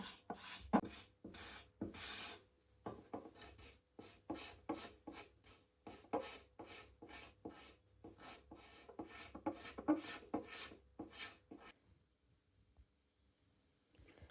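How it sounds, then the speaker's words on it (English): Hand scraping along the plastic binding of a Les Paul Custom guitar body: a steady run of short, rasping strokes, close and fairly loud, pausing briefly twice before fading out near the end. "So I scraped the binding clean"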